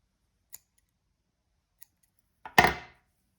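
Scissors snip through crochet yarn: two faint, quick clicks of the blades, then one louder, close snip that rings out briefly, with no talking.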